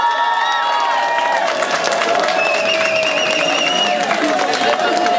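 A crowd cheers and applauds continuously for a graduating gymnasium class at a school ceremony in Moravská Třebová, with steady clapping and a few shouts throughout.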